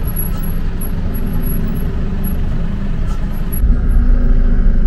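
A steady low rumble from vehicles crawling down a very steep slope in a convoy in Colombia at walking pace, brakes working hard, continuous and close throughout.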